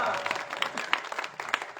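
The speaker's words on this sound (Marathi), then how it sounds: "राजसाहेब ठाकरेंना टाळ्या वाजवा" A crowd at a political campaign rally in Maharashtra breaks into dense, steady clapping nearby. The applause carries on for the whole stretch at a fairly loud level, with some voices underneath.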